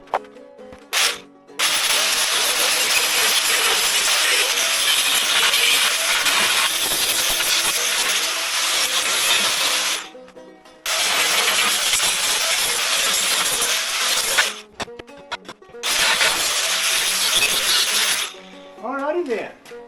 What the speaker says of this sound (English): Let me grind this off here right quick.